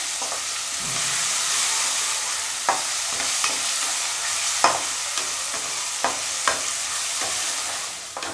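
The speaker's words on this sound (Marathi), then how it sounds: "सोबतच आपण जे वाटण करून घेतलेलं होतं कोथिंबीर मिरची त्या सगळ्याचं ते टाकायचं सगळं छान असं फ्राय करून घ्यायचं" Ground coriander and green chili paste frying in a pan, a continuous hiss of sizzling with scattered scraping taps of a spoon stirring, close and alone with no talking.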